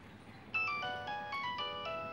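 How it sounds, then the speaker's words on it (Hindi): A mobile phone plays a bright, melodic electronic ringtone indoors, a short tune of clear repeating tones that starts abruptly and rings on alone at moderate volume. "तुम्हारा फोन बज रहा है।"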